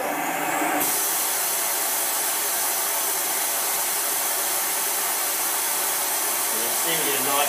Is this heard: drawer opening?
no